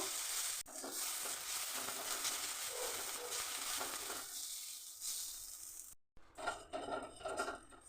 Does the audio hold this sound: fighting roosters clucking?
no